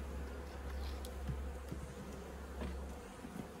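Honeybees buzz around an opened hive where robbing and fighting have broken out in a city apiary, a faint, dense droning hum with scattered brief buzzes of individual bees flying close.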